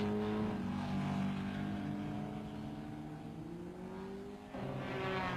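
Maserati race car from the 1957 German Grand Prix at full throttle, a loud continuous engine roar with rising and falling pitch through gear changes, close and steady, then a second surge near the end.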